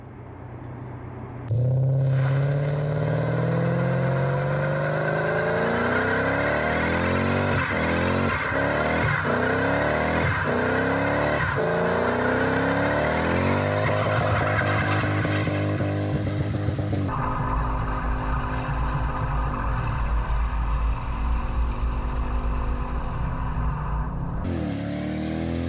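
The engine of a Toyota Celsior (Lexus LS400, UCF21) starts up, then revs repeatedly and climbs through its range during a drive, a loud, sustained, close-up engine note that rises and falls without talk.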